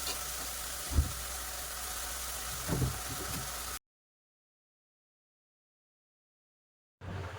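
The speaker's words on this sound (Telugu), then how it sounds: "ఇదిగోండి ఉల్లిపాయ మగ్గుతూ ఉంటుంది." Chopped onions and green chillies sizzle steadily in a frying pan for a tangy curry, a broad hiss with a couple of soft knocks, before it cuts to silence and briefly returns.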